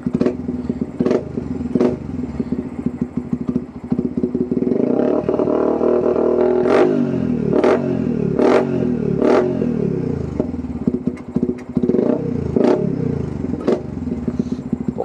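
Yamaha Vixion supermoto motorcycle with a light aftermarket single throttle cable, its engine idling loudly then revved in repeated sharp blips, close and continuous.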